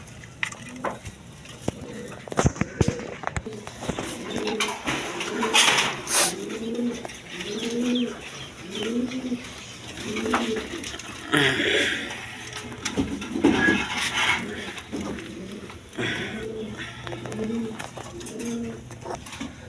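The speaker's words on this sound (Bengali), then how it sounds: "এখানে এক পেয়ার মসল্লাম কবুতর আছে" Pigeons coo repeatedly at a pigeon market, a run of rhythmic throaty coos close by over a busy background murmur, with voices talking now and then.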